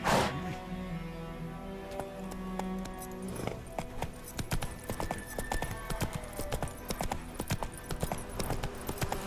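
Roach, a horse in a video game, clip-clops at a steady walking pace, its hooves sounding crisp but fairly quiet against a soft background.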